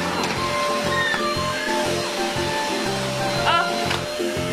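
A red Fantom electric vacuum cleaner runs continuously at close range with a steady drone, while children's voices and small household noises come and go over it.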